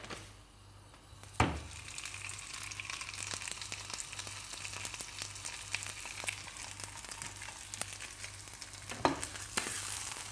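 Cordon bleu frying in a hot pan, a steady close crackle and sizzle throughout with a couple of louder knocks from the pan or utensil, no talking.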